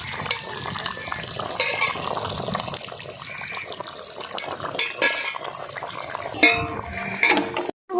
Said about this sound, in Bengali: এরপর আমি দিয়ে দেবো আলু।